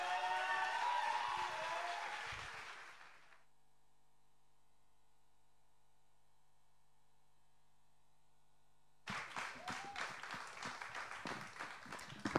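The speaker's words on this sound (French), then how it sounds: "je vous demande de l'applaudir bien fort" Audience applause for a performer at the Belgian Imagine 2013 final, a loud burst of clapping that cuts to near silence with faint hum, then resumes as lively clapping toward the end.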